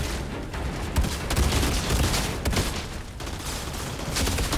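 Dense, continuous gunfire and explosions from the video game Outriders, loud and sustained throughout with overlapping rapid bursts and heavy impacts.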